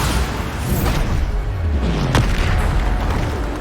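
Bombarda blast spell in the video game Hogwarts Legacy: one booming explosion over a dense, rumbling wash of combat noise, with a sharp crack near the middle and no talking.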